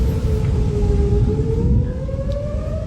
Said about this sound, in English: Sirens filled a dark night in Bremen.